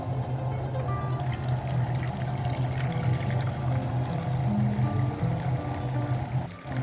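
Warm, pre-boiled milk pours steadily into a large glass bowl for setting homemade yogurt, a continuous close liquid stream and splash lasting throughout.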